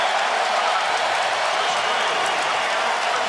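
A college basketball arena crowd at Kentucky versus LSU cheering and applauding as Ben Simmons checks out, a loud steady roar of many voices that fills the space throughout.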